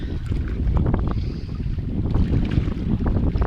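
Waves wash against the shore of Lake Dojran while strong wind buffets the microphone, producing a heavy, continuous low rumble with rough sloshing underneath and no speech.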